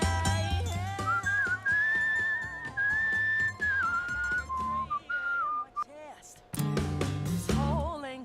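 A person whistles a wandering melody in long sustained notes and short slides, with speech breaking in between phrases and game sounds underneath.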